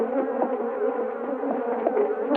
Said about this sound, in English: The difference between the Italian and African bees is remarkable.